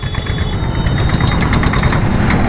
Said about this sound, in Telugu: అదేదో జనరేటర్ సౌండ్ వచ్చినట్టు వచ్చింది అది వెళ్తుంటే